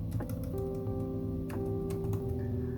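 Quick clicks of typing code on a computer keyboard, sparse and fairly faint over a steady low electronic hum.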